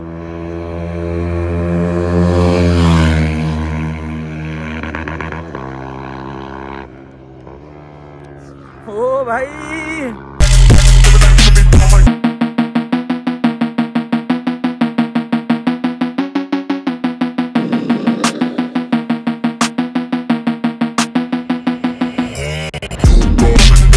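A Kawasaki Ninja 400 motorcycle at full power, with a rising high-revving engine note at first, then an abrupt loud burst and a sustained rapidly pulsing engine roar close to the microphone, amid a few brief spoken words.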